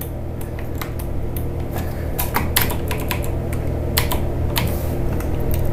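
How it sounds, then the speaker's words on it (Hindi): A computer keyboard clatters with quick, irregular keystrokes as text is entered in Adobe Illustrator, the clicks close and fairly loud over a steady room hum, with no talking. "यहां पर लिखते हैं टेक्स्ट,"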